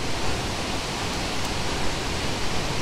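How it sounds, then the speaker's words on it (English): A waterfall roars loudly and steadily at close range as a dense, unbroken rush of falling water that fills the air, with no other sounds coming through. "You can't hear anything when you're picking locks by a waterfall."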